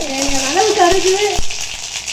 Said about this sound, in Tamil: கோவக்காய் கரம்பதுக்கு ஒரு இன்பச்சட்டியில் எண்ணெய் வச்சு அதில் கடுகு